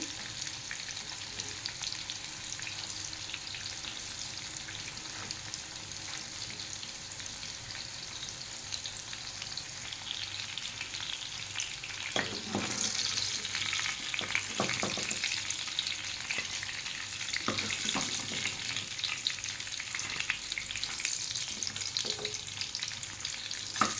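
Chicken kurkure snack pieces fry in hot oil with a continuous soft sizzle, a few louder crackles and stirring clinks joining partway through, with no voices.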